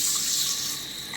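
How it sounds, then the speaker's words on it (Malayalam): Running tap water pours steadily into a bowl as fenugreek seeds are washed, a continuous close hiss with no talk. "നമുക്ക് ഈ ഉലുവ നല്ലപോലെ ഒന്ന് കഴുകിയെടുക്കണം"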